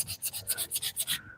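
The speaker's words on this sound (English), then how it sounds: "I'm going to try to put a good sand on it." Sanding a hook knife handle made of madrone wood and epoxy: about nine quick, even back-and-forth rubbing strokes, a close, dry rasp that stops abruptly at the end.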